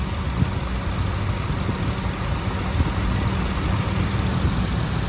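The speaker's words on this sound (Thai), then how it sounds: "นี่นะครับเครื่องยนต์เดินนิ่มเรียบเลยครับ" A 2004 Honda Accord G7 with a gas fuel system idling smoothly, a steady low engine hum heard up close with no revving or talk.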